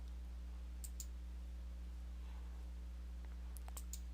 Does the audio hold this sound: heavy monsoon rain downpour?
no